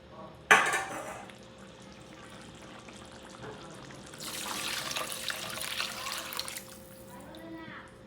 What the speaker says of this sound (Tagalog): Then maglalagay na tayo ng tubig.